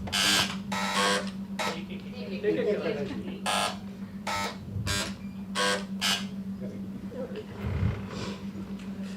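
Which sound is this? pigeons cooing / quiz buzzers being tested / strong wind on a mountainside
quiz buzzers being tested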